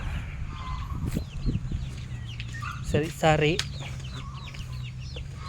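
Hens clucking and a rooster calling nearby on a farm in Mindanao, with a person talking over a steady low hum of background noise.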